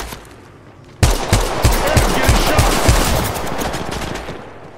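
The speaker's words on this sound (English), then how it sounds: "Getting shot at" Rapid automatic gunfire from an Apex Legends Mobile match bursts in suddenly after a quiet second, a close, loud run of evenly spaced shots that keeps going over a dense roar of game noise.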